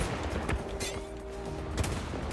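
DMR rifle shots in XDefiant on Attica Heights: a few sharp, spaced single reports over steady game ambience, with a sustained tone humming between them.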